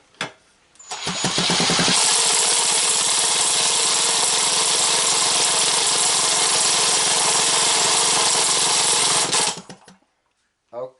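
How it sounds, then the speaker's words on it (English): A cordless drill or impact driver cranks a small engine with its spark plug removed, producing a loud, continuous whirring spin for about eight seconds before it winds down abruptly. "It spins it over"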